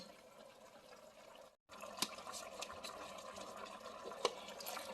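Water is poured into a pan of dinuguan, a pork-and-blood stew, after the meat was sautéed with the blood; a soft liquid rush and bubbling follow a brief gap, with a few sharp clinks near the pan.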